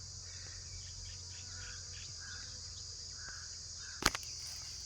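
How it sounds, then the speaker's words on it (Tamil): Cicadas in village trees give a steady, high-pitched buzzing drone that continues throughout at moderate distance, with faint chirps and one sharp click near the end. "கடிக்க மாட்டாங்கிறது சில்லுவண்டு."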